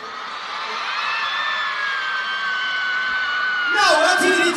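A concert crowd at a brand launch event screams and cheers in a loud, sustained roar, with voices shouting over it near the end.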